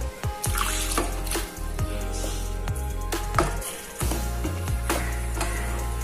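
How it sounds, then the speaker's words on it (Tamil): Milk trickles in small pours into a rava sweet mixture being stirred in a pan, with soft dribbling and occasional scraping knocks, close and fairly quiet. "இப்ப இந்த பாலை வந்து கொஞ்சம் கொஞ்சமா ஊத்தி கிளறிக்க போறோம்"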